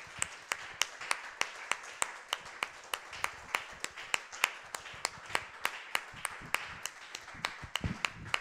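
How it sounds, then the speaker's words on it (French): Church congregation clapping at a steady rhythm, roughly two sharp claps per second over a soft murmur, fairly distant and moderately quiet, with no talk over it. "Acclame très fort."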